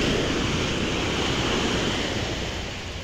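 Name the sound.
waves on a beach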